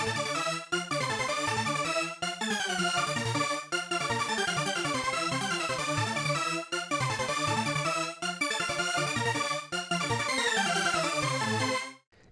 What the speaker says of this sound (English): The Hoover alone sounds like this.